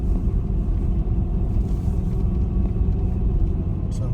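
A car on Continental Extreme Contact DWS06+ tires rolling downhill on an icy Vermont road, giving a steady deep rumble of tires and cabin noise, continuous and fairly loud, with no voices.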